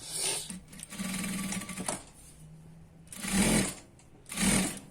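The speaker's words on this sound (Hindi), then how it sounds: "अब देखिए हम यहां से इसे करते हैं शुरुआत और इसको हम लगाएंगे आधा इंच की सिलाई" Sewing machine stitching a half-inch seam along the waistband of an ankle-length pant, running in a few separate bursts with short pauses between them. It is close up and no one talks.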